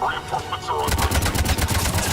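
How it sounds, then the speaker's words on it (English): Gunfire in a Mass Effect 3 battle breaks into rapid, dense automatic bursts after a voice speaks briefly, loud and close with rattling shots layered throughout. "Commander Solano is taking heavy fire"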